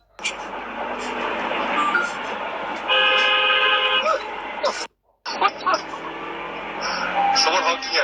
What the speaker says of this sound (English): Someone honking at you?